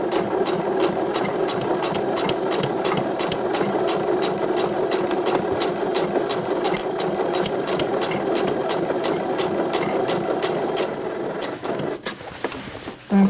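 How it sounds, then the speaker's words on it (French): A sewing machine stitches close beside a zipper's teeth while sewing a pair of shorts, running in a fast, steady mechanical whir, close and loud, then slowing and stopping near the end with a few clicks. "on coud au plus près des dents du zip, mais on ne coud pas sur les dents du zip"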